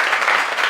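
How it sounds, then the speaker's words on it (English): Conference audience at a corporate tech event gives a brief, steady burst of applause, dense clapping with no pause. "Let's give him a big round of applause."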